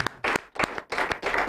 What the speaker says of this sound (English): So make we clap for them.